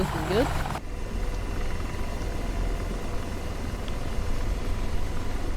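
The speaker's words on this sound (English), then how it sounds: "The Chinooks are starting." Video-game Chinook helicopter engines drone with a steady, low, rumbling whine that holds evenly throughout at moderate distance.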